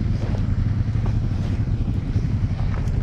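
A heavy tractor engine rumbles and labors at low pitch, pulling a stuck truck, steady and close, with faint clattering over the drone.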